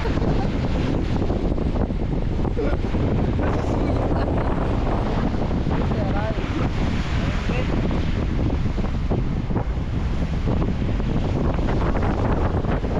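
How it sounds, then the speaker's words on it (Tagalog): Strong sea waves and wind at sea off Mindanao, recorded from a boat: a loud, constant roar of wind buffeting the microphone over crashing, rolling water, unbroken for the whole stretch. "malakas talaga yung alon"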